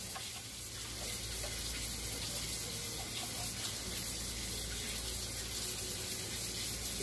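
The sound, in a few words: water poured while rinsing rice in a pot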